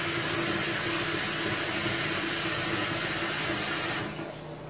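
Water from a kitchen tap pours steadily into a pot with a loud, full rushing hiss that holds level, then drops off sharply near the end as the flow is shut.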